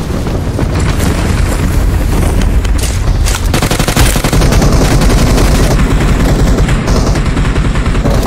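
Dense gunfire in PUBG Mobile on the Sanhok map, loud and continuous automatic bursts with booming shots, no talking.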